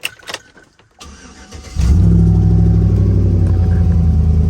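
A Chevy truck with a 5.3 engine starts after a few knocks and handling noises, then settles into a loud, steady idle rumble close by.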